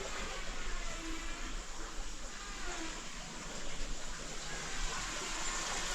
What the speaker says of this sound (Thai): ได้ยินไหมครับเสียงลำธารน้ำไหลแบบ นี้